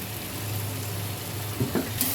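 Spices frying in a pan for a dry fish dish, a steady low sizzle with a few soft stirring clicks near the end, heard close and alone.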